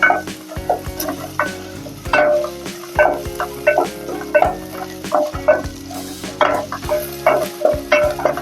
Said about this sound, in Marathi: चांगलं हलवायचं असं चांगलं परतायचं